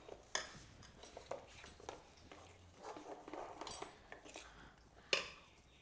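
A whisk or spoon clinks against a bowl while batter for a vegetable moong dal pancake is mixed, faint irregular taps and scrapes with a few sharper clinks.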